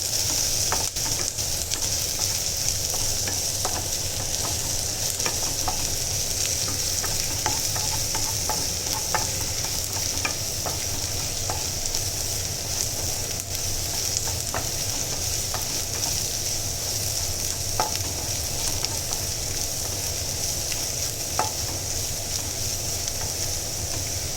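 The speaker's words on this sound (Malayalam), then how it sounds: "കടുകിട്ടു പിന്നെ വെളുത്തുള്ളി ഇഞ്ചിയും പേസ്റ്റ് പച്ചമുളക് കൊച്ചുള്ളി വലിയ ഉള്ളി ഒക്കെ വഴറ്റി വഴറ്റി ചുമന്ന കളറാവുന്ന വരെ വഴറ്റണം" Mustard seeds, garlic, ginger paste, green chillies, shallots and onions sauté in a pan for chickpea curry, making a continuous close sizzle with light stirring clicks throughout. No one speaks.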